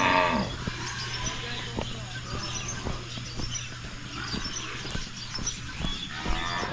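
A cow calls to its calf on a farm, a loud, drawn-out moo at the start followed by quieter lowing, birds chirping and scattered clicks in the background.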